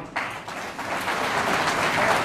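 A crowd claps steadily at a political gathering, the dense, continuous applause starting abruptly and holding full and close for about two seconds.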